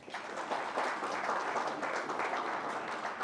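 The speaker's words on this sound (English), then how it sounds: "give a big hand of applause to the Minister of Finance and the Finance Minister for executing this mandate" An audience at a post-budget seminar applauds the Minister of Finance, a dense steady wash of many hands clapping throughout, moderately distant and without speech.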